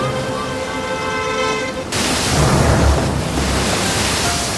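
Ocean waves surge and crash in a Hindi animated fairy tale, a loud broadband roar that swells suddenly after a tonal passage and then rumbles on steadily.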